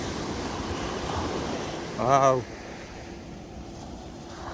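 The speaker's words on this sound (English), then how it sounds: "just hearing the sound of the waves and being on the shoreline is a therapy in itself" Ocean waves wash steadily onto a shoreline on a fishing outing, a continuous rushing surf mixed with wind noise, and a man briefly exclaims partway through.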